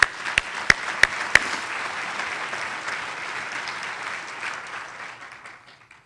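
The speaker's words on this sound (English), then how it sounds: "Round of applause for those folks." Luncheon audience applauding at a foundation fundraiser: a few sharp, loud claps right up front, then dense, even clapping from a large crowd that gradually fades toward the end, with no talking.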